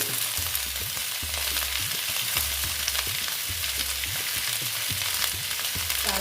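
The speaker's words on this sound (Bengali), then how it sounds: "এদিকে পটল দিয়ে আবার একটু নেড়ে করে নিচ্ছি" Mixed vegetables with pointed gourd are stirred in a hot pan for a vegetarian dish without onion, with a steady sizzle under rhythmic scraping and clacking strokes of the spatula, close and continuous.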